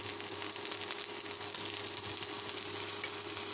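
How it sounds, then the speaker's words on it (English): Beef stir-frying in a pan with spices makes a continuous, fairly loud sizzle with occasional scraping as it is stirred, close up and without speech, over a low steady hum. "I will stir fry the beef."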